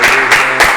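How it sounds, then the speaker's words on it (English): A university event audience delivers a rhythmic group clap, three sharp, loud, evenly spaced beats in under a second, close and unaccompanied by talk. "Let's give him, since it's UCLA, we'll give him an A clap."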